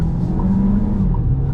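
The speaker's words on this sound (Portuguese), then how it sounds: "Muito gostoso dirigir esse carro." Fiat Pulse Abarth crossover being driven, a loud steady engine drone with road and tire noise inside the car, no talking during the moment.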